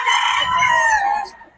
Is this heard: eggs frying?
no